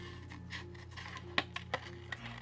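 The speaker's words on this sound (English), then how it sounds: "I'll just fussy cut it pretty quick" Scissors snip through painted paper during fussy cutting for a mixed media card, a few quick close crisp cuts and light rustles at low volume, no talk.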